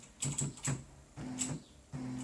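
A computer keyboard is typed on to move the carriage of a modernized Brother LW-35 typewriter: a few crisp, quick key clicks in short bursts, close and clear, each followed by a brief mechanical whir.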